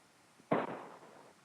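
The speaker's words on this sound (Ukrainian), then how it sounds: "Я прям чую вибухи." A single muffled explosion boom from afar in a war zone, a dull low thud that rolls out and fades over about a second against quiet background.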